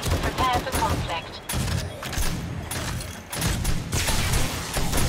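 Gunfire at police zombies in 7 Days to Die, a rapid, dense volley of shots emptying a magazine, loud and continuous over several seconds with someone talking over it.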